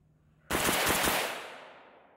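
A Zastava M90 rifle fires a quick burst of about four rounds from its magazine, sharp and close, with a long echoing tail as the reports fade out.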